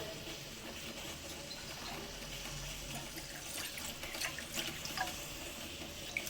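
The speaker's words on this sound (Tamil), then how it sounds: "நம்ம இதில் கொஞ்சம் தண்ணி சேர்த்துக்குவோம்" Water is poured into a pot of village-style lentil ball curry, making a quiet, continuous splashing trickle with a few slightly louder splashes toward the end.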